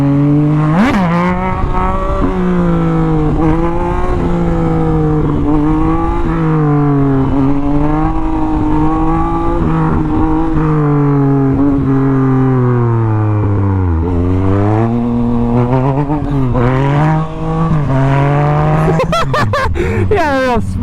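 Harley-Davidson motorcycles riding past, a loud continuous engine drone with rising and falling pitch as gears shift, heard close up from another moving motorcycle.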